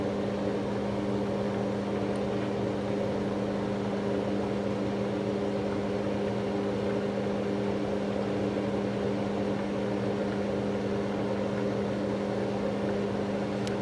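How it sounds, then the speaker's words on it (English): A microwave oven hums steadily while melting cheese in a bowl, a constant, unchanging drone with a low mechanical tone throughout and no talking. "We're gonna microwave the cheese in our bowl."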